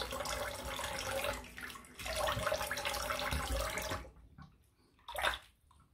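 Water runs from a tap as a razor is rinsed beneath it, a steady close splashing that stops twice briefly and then ends with a short splash.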